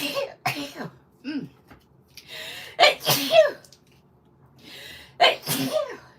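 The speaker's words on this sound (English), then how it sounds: "I just had a sneezing fit." Repeated sneezes in a burst, about five close, loud sneezes spread over several seconds with short pauses between them, set indoors during paper card crafting.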